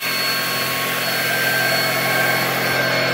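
Greenote GSC50 cordless vacuum cleaner running, a steady, loud whine from its motor with a faint rising hum, heard close up on its own without talk.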